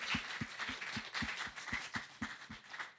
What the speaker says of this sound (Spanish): Denle un aplauso a todos los que trabajaron antes,